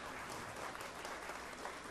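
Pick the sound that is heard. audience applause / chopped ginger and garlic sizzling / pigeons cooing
audience applause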